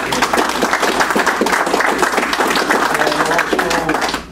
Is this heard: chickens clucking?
no